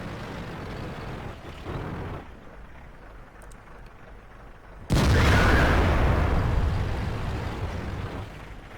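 A heavy IS-4 tank cannon fires a second shot in a tank video game: a sudden loud blast erupts midway through a low mechanical rumble and rolls on as a sustained, slowly fading roar.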